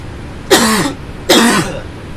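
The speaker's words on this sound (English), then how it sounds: "Excuse me, I'm going to cough." Two harsh, hoarse coughs from a man close to the microphone, each lasting about half a second with a short pause between them.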